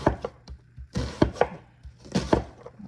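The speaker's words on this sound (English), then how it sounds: "just go ahead and chop it up and be done with it" A knife chopping food on a board, with several quick, close, crisp knocks in small clusters and no talking.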